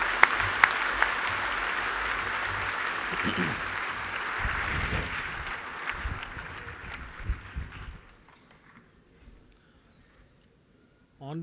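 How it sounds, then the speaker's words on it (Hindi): Loud, sustained applause from a large audience welcoming a speaker at a golden jubilee celebration for a federation of the blind, dense clapping that thins and fades out toward the end, leaving near silence. "जोरदार तालियों से"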